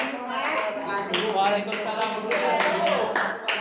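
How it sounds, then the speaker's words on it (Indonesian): A class applauds a student group after their presentation in a mathematics lesson, with brief clapping running under voices and speech. "Beri aplaus."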